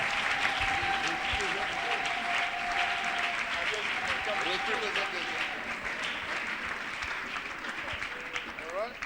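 A church congregation claps steadily and cheers in praise, with voices calling out over sustained applause that carries on without a break.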